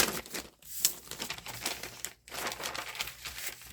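Paper pages for a handmade journal are folded, with close, fairly quiet crinkling and rustling that comes in uneven bursts and pauses briefly twice.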